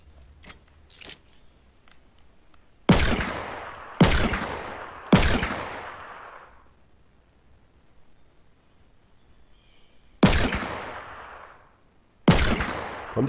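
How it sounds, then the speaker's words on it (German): Gunfire in the video game Fortnite, with five sharp, loud shots spaced a second or more apart, each trailing off quickly, and a couple of faint clicks before them, no talking. "Oh, da schießt ein Penner."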